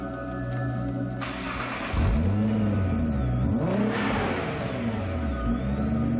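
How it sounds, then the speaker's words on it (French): A Nissan GT-R engine fires up for the first time on a dynamometer test bench, a loud starter whir giving way to a roaring catch and rising revs, then swooping revving sweeps over a steady mechanical hum. "le moteur rejoint le banc de puissance où il démarre pour la toute première fois"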